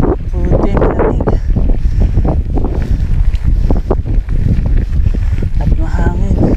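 Strong wind buffets and rumbles across a hot, steep climbing trail on Jeddah mountain, continuous and close under breathless hikers' talk.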